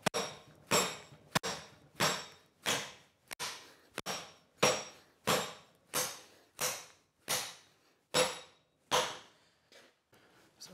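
Hammer blows forging leaf spring steel on an anvil, about sixteen sharp metallic strikes at a steady rhythm, each ringing briefly, close and fairly loud.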